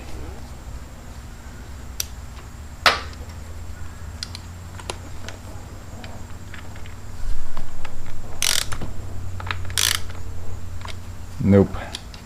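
Ratchet working a primary cover bolt on a 2006 Harley-Davidson Ultra Classic motorcycle during a primary oil change: scattered close clicks and bursts of rapid ratcheting over a low background hum.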